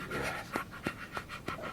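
A dog pants steadily and close by, with rhythmic breaths and a sharper gasp roughly every third of a second, under a constant hiss.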